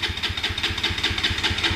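A Bajaj Pulsar RS 200 motorcycle, a 2023 BS6 model, runs close by just after starting, its engine ticking over in a quick, steady, throbbing idle rhythm with no talking.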